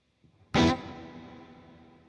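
Guitar played through a Headrush effects unit with reverb: a sharp, bright strummed attack followed by a long, slowly fading tail with a gentle warble, loud and alone.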